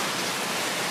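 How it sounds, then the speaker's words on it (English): A waterfall at a jungle oasis pool on Koh Samui, Thailand, a close, steady broadband rush of falling water with no other sounds over its brief span. "an enchanting waterfall oasis with a crystal clear pool"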